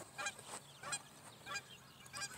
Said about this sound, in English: I heard the bird sounds.